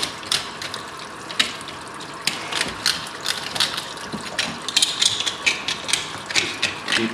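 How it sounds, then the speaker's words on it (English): Knife scraping gristle off a boiled longhorn bull skull, a busy run of close, gritty scrapes and clicks in quick uneven strokes, with wet sounds underneath and no talk. "So you have to do a little bit of the cleaning by knife and hand"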